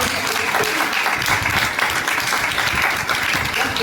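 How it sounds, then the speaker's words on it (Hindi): Loud audience applause at the launch event of a Bharatiya Yog Sansthan district, a dense continuous clapping from a large crowd held steady for several seconds. "तो एक बार जोरदार तालियां।"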